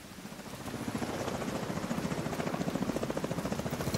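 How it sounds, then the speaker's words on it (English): Enemy helicopter approaching in The Division 2, a rapid, steady rotor chop that builds in the opening half second and then holds loud and close, with no talk over it. "Enemy helicopter approaching."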